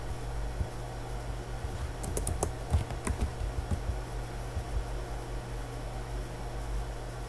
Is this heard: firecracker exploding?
no